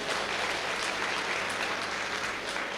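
A comic poetry gathering audience claps together in a dense, steady burst of applause that fills the whole stretch without pause.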